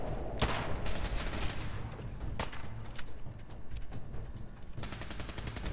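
Gunfire in the video game Fallout 4, with rapid bursts of sharp, loud shots in uneven clusters, separated by short gaps and quieter moments.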